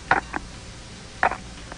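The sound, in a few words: camera shutter clicking over the telephone, mystery sound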